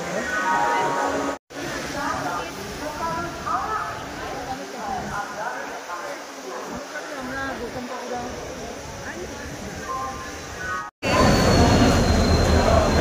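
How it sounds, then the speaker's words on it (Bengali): A train pulls into a station in Hyderabad, Telangana, its steady rumble and rail noise running throughout with a brief break, while people talk over it nearby. "এই ট্রেন ঢুকলো এখন।"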